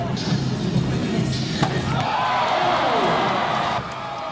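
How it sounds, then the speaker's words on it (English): A crowd-pleasing slam dunk at a college basketball dunk contest lands with a single hard thud, followed by a swelling roar of cheering from the crowd that holds for a couple of seconds before dropping off. "Lacey had a chance to redeem himself with this crowd-pleasing jam"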